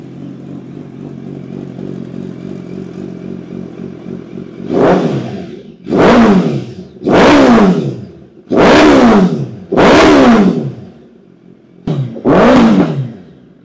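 A superbike with a titanium full-system exhaust revs hard five or six times in a row, each loud roaring burst dropping off between blips after a lower idle rumble.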